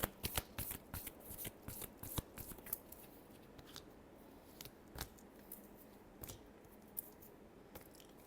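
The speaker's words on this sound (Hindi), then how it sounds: "क्या फीलिंग्स और इंटेंशंस हैं कैंसर के लिए। Last shuffle." Tarot cards being shuffled by hand, a rapid flurry of crisp riffling snaps in the first few seconds, then sparser single flicks and taps, close and fairly quiet with no talk.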